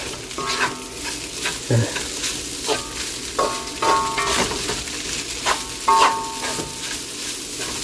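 Egg fried rice sizzling in a pan while being stir-fried, a steady frying hiss broken by repeated clinks and scrapes of the utensil against the pan, close by and with no voices.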